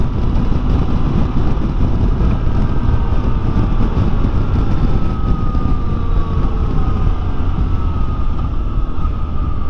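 Yamaha Tracer 9 motorcycle engine running steadily while being ridden, a loud continuous drone with wind rush and a rising and falling pitch that shifts with throttle, with no talking.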